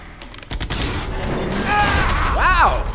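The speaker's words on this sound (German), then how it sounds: "Wow, guter Schuss." Gunfire in Jurassic Park: The Game, a burst of sharp shots followed by mechanical clatter and a whooshing sweep, loud and close under game dialogue.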